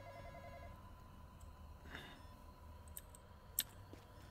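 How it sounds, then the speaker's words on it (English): A telephone rings faintly in a Roblox horror game, giving short repeated electronic trills against a quiet background hum, with a few scattered clicks toward the end. "Well, the phone's ringing."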